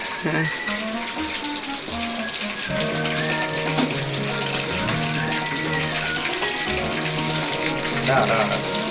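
Chicken pakoda sizzles steadily in hot oil, a continuous bright crackle under music and voices throughout.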